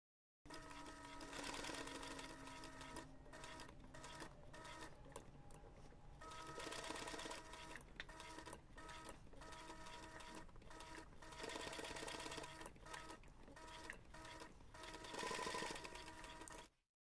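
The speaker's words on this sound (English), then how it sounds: "you can take this to the machine and top stitch around all sides" A sewing machine runs in steady bursts of rapid stitching, pausing briefly between runs, as it top-stitches around the edges of a fabric Christmas tree ornament; close and fairly quiet, with no talking.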